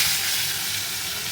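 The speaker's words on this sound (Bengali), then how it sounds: "এবারে মাছ ভাজবো" Rohu fish fries in hot oil in a wok, giving a loud, steady sizzling hiss that fills the whole moment without pause.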